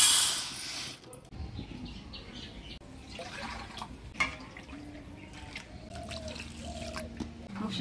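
150 grams of red lentils are washed in water, with faint dripping, splashing and quiet sloshing close by, and a few soft clinks.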